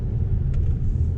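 A 2013 Volkswagen CC 2.0 TDI, 140 bhp, with just over 100,000 miles, driving along with a steady low engine and road rumble inside the cabin, continuous and moderately loud, no talk.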